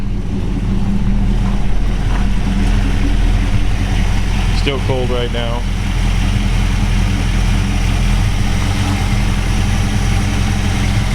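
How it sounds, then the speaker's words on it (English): A 1940 Ford Deluxe Tudor resto-rod with a ZZ4 V8 engine idles with a steady low rumble, close by, while someone talks briefly over it. "We're going to fire it up here for you. It starts instantly."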